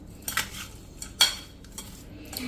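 A spoon mixing chopped lemon pickle with salt in a bowl, two sharp metallic clinks and a few softer scrapes against a quiet background, close by with no talking.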